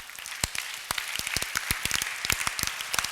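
A church congregation claps together at a solemn convocation, with dense, lively, fairly loud applause and irregular sharp hand claps standing out over a steady wash of clapping.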